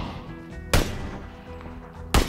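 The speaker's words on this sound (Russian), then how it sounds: "Слышал стрельбу." Two sharp, loud gunshots ring out in a multiplayer shooter video game, about a second and a half apart, over a steady low engine-like hum and faint background game sounds.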